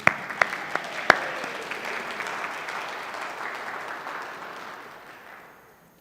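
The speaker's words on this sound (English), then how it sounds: "Would you join me in giving a round of applause to Amberly, that incredible choir?" A church congregation applauds a choir from the pews, a dense wash of clapping that starts with a few sharp claps, holds steady, then slowly fades out over several seconds.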